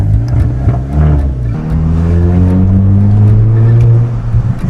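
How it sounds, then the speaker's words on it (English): A Volkswagen Golf GTI accelerates hard up close, its engine note rising through the gears, with sharp exhaust pops and bangs crackling over the roar. "Oh, yeah, those pops and bangs."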